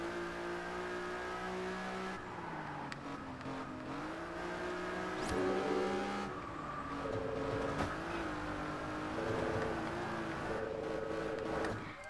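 Engine of a car racing in Test Drive Unlimited Platinum, a continuous revving whine that climbs and drops through gear changes, with brief sharp clicks and a few surges over the steady drone; no talking.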